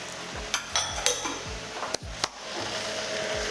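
Mushrooms and onions cooking in a dry pan with no oil, a soft sizzle under sharp clanks and scrapes of a utensil against the pan.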